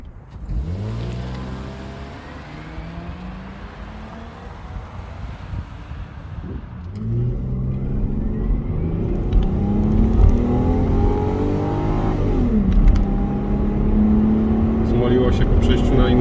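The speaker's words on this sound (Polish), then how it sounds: "przytrzymuję hamulec i wbijam bieg i później puszczam hamulec i wciskam gaz" A stock Lexus IS200 with an automatic gearbox pulls away from a standstill, its engine rising in pitch through several upshifts, loud and steady under wind noise, with a brief murmur from the driver.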